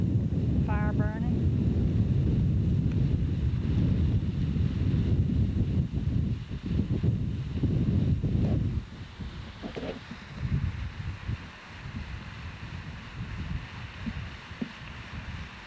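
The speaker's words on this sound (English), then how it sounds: "You can probably hear the fire burning." A field fire burns in a strong wind at the back side of a Waukeenah watermelon field, a rough roaring rumble of flames and wind buffeting the microphone, strong at first and then quieter.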